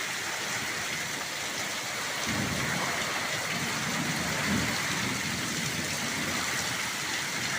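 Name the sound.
heavy rain during a thunderstorm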